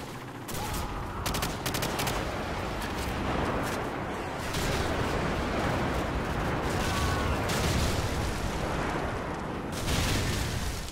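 Airstrike explosions and heavy gunfire in a modern military shooter video game firefight: continuous rattling bursts of automatic fire and booming blasts, loud and dense throughout.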